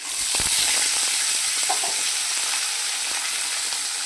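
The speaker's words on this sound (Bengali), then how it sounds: "এবার প্রত্যেকটা সবজি আমি দিয়ে দিচ্ছি।" Vegetables tumble into a hot pan of oil tempered with bay leaf and whole cumin for a spinach dal, setting off a loud steady sizzle with a few soft knocks early on.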